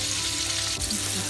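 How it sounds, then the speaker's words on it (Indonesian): Chopped shallots and garlic sauté in a pan as cooking for goat curry begins, a brief, steady oil sizzle heard close up with no talking. "saya akan menumis bawang merah yang sudah dirajang, lalu bawang putih"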